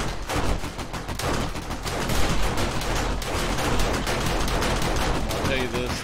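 Rapid, dense gunfire from defensive turrets in 7 Days to Die with the Darkness Falls mod, a continuous loud rattle of overlapping shots that barely pauses for the whole stretch.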